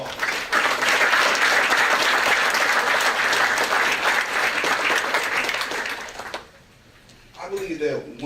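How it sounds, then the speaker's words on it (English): Audience at an opening session of an early arrival program breaks into loud, sustained applause that fills the room for several seconds, then cuts off abruptly, followed by a voice beginning to speak. "let's give them a round of applause"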